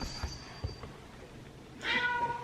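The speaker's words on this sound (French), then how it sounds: "Oui miaou, tu peux faire miaou, oui." A house cat gives a short, fairly faint meow near the end after a quiet stretch with soft background noise.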